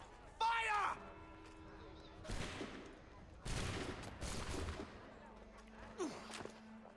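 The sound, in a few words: musket volley gunfire in video game Assassin's Creed 3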